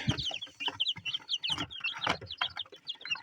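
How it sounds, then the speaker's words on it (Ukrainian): Chicks cheep in high, rapid peeps over soft clucking from hens, a busy chorus of overlapping calls close by. "Вилупилась у нас і друга партія курчаток"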